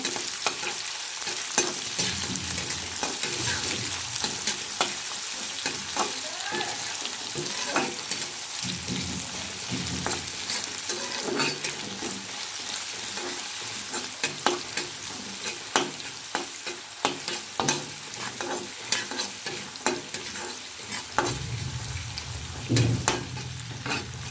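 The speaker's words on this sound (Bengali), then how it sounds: "এবার পেঁয়াজ কুচি, পেঁয়াজটাকে ভালো করে ভেজে নেব" Chopped onion sizzles in a hot pan for a long stretch, punctuated by frequent scraping and tapping of a spoon as it is stirred, close up and steady, with no talking.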